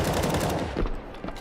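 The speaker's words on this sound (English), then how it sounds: "It's going to be a nice little deagle there coming out from Dom" Desert Eagle pistol shots in a Counter-Strike match, a loud dense burst of gunfire sustained throughout with no pause between reports.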